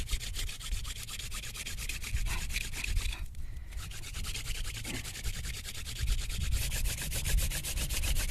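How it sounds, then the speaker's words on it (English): Wooden spindle drilling into a mule fat wood fireboard for a friction fire, a steady dry rubbing and grinding that runs throughout with a rapid back-and-forth rhythm, close and fairly loud. "You can even hear the sound of dust forming from the friction"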